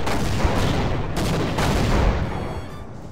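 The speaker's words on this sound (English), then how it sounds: "Rocket launcher." Rocket launcher fire and blasts in the Sven Co-op shooter game: a loud, dense barrage of booming detonations, with sharp bursts near the start and middle fading into a rumbling tail.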